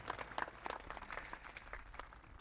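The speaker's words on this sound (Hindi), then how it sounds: "बच्चों ताली बजा सकते बजाओ थोड़ा जोर से" Children clap at a Tejaji Jayanti celebration and school annual function in Mundwa, producing a brisk, scattered patter of applause from a group at moderate distance that continues steadily throughout.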